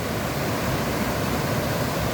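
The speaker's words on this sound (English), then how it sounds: "That is Rocky Creek." Rushing water of Rocky Creek in the alpine meadows near Mount Baker, a steady, dense broadband roar that stays close and constant with no pauses and no voices.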